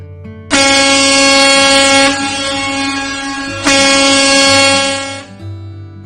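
A truck air horn blasts loud and close in two long sustained honks, the second following a brief dip, then trailing off at the end.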